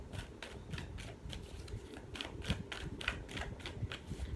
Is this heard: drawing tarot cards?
yes